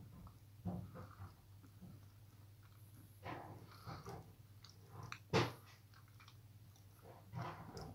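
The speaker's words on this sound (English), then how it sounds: "Now that's a good crunch." Someone bites into dark chocolate and chews it up close, making a few sharp crunches, the loudest near the middle, between quieter wet chewing sounds and a low steady background hum.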